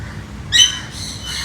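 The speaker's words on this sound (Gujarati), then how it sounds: "હાય પોપટ, પોપટ" Parrots at Kankaria Lake give a sharp, harsh squawk around the middle of the clip, then a fainter, drawn-out call, all over a low background hum.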